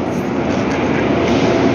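A metro train rolls along as a loud, continuous rumble and hiss heard from on board, steady throughout with no distinct voices.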